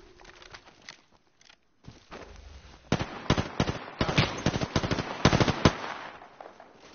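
Gunfire in the video game Apex Legends crackles in rapid bursts of sharp shots, with faint, sparse pops at first and then dense, loud volleys.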